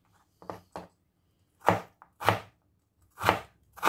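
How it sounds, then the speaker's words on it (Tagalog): A knife slices through ginger on a cutting board in a handful of crisp, separate chops at an uneven pace, close and clear with silence between strokes. "Next is yung ating luya."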